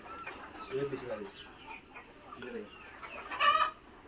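Chickens and a rooster clucking at a poultry farm in Raozan, Chattogram, with a few short clucks early on and a louder, sharper call near the end, heard beneath people talking.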